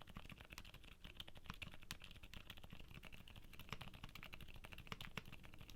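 Rapid typing on a mechanical keyboard with Gateron Oil King switches, a dense run of crisp, close clacks in an uneven rhythm, clear and alone.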